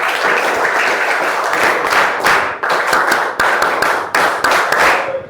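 A school audience claps loudly and steadily, dense applause that swells and breaks into several rolling waves with short pauses between.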